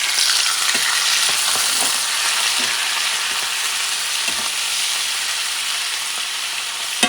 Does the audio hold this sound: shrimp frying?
yes